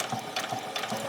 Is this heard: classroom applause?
no